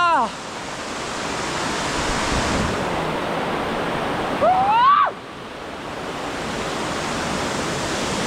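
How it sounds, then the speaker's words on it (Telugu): Steady broadband roar of rushing water at Bogatha Waterfall fills the whole clip, with a brief voice rising over it midway. "వాటర్ఫాల్ చూడండి మ్యాన్"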